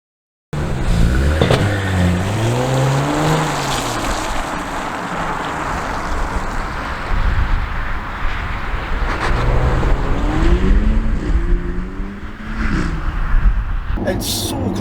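Porsche Cayenne S 2.9 (9YA) on the move, a steady engine and road drone running throughout at moderate level, with someone talking over it for much of the drive.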